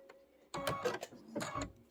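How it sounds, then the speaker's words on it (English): A sewing machine joining freestanding lace pieces, two short close bursts of mechanical whirring and clicking separated by a brief pause, quiet overall with no voices. "we're going to sew all of these on first"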